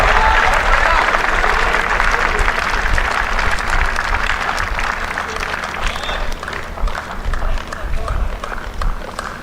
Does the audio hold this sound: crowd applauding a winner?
yes